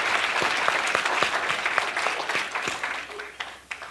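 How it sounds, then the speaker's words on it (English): A crowd at a county community meeting claps in a dense round of applause that thins out and fades toward the end, with scattered last claps. "please, let's give a round of applause"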